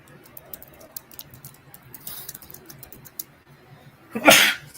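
A single loud sneeze bursts out near the end, after a stretch of quiet room tone scattered with faint ticks and taps.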